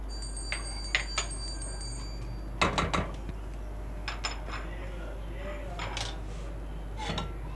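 Onion, julienne-cut chilies and ginger go into a cooking pot of white daal mash, with a few sharp metallic clinks and clatters of utensils against the pot over quiet kitchen background.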